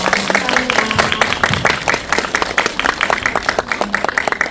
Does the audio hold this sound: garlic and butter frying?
no